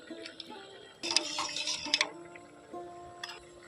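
Water poured into a bowl with salt for soaking drumstick flowers, a few short splashing bursts with brief pauses between, close and fairly soft, no talking.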